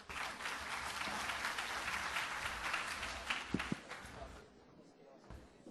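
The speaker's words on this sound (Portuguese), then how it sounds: "Uma salva de palmas do nosso agradecimento a Maiara." A seated audience at an academic research showcase on violence against women claps steadily together for several seconds, dense and sustained, then the applause thins out and fades near the end.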